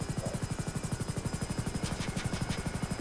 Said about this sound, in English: Luckily, that's a tanky helicopter. Well, it has very wide propellers. It's a big helicopter.